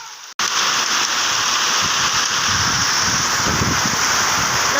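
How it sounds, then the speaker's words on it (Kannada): Heavy rain pours down in a dense, loud, continuous roar that starts abruptly after a brief gap, with gusty wind mixed in and hailstones drumming on a sheet roof. "ತುಂಬಾನೇ ಜೋರ್ ಮಳೆ ಬರ್ತಾ ಇದೆ"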